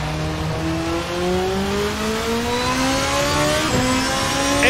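The V8 engine of a VRC GP2 race car in Assetto Corsa revs steadily upward through the gears, its loud, close-up snarl rising in pitch with a brief dip at a shift and no talk over it.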